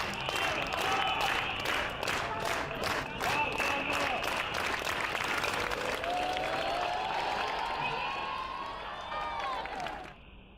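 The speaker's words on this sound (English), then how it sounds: "Cue that slow clap, my friend." Rhythmic slow clapping from a tennis crowd after match point in a Big Ten women's college tennis match, evenly spaced claps building into sustained applause and cheering that fades near the end.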